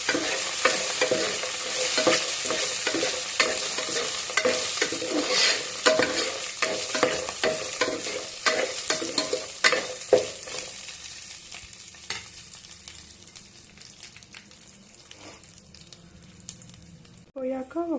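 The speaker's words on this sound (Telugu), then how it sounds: "అలానే ఒక ఎండుమిరపకాయ కూడా వేయండి. వేసి కొంచెం లైట్గా ఫ్రై చేయండి." A dried red chili fries lightly in hot oil in a pan for upma, a soft sizzle under repeated stirring scrapes and clinks that fade toward the end.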